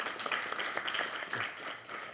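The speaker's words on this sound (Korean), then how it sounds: "네, 박수 부탁드리겠습니다." Applause from the audience at a commemoration ceremony marking the 104th anniversary of Korea's Declaration of Independence, a steady, moderately faint wash of many hands clapping together for about two seconds.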